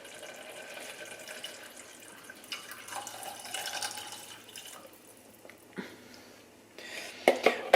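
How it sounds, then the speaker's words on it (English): Beef broth made from a stock cube is poured into a pot of cooked onions, a steady splashing pour of liquid with a few sharper clinks and drips near the end. "is add my beef broth"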